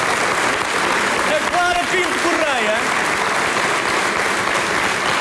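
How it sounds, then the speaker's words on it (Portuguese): A live audience at a gala gives loud, sustained applause that stays steady throughout. A voice speaks briefly over the clapping early on. "uma salva de palmas para a nossa professora doutora"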